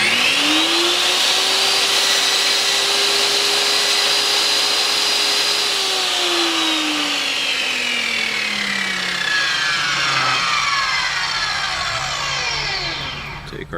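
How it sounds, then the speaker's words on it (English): A table saw runs close and loud while a scrap piece of wood is fed through a blade set to a 1/4 inch notch depth, its whine rising as the cut bites, then slowly falling away as the blade spins down. "we're going to take a scrap piece of wood here and run it through and see if it's 1/4 inch"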